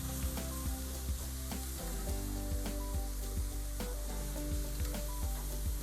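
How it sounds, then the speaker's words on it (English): Marinated steak on a grill, sizzling and crackling steadily up close, with scattered sharp pops and occasional tool clicks. "it's looking really awesome"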